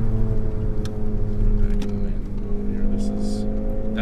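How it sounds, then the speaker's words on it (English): Stage 2 2015 Volkswagen GTI exhaust popping off throttle, a few sharp crackles over a steady engine drone and road rumble, heard up close from inside the car. "There are the pops."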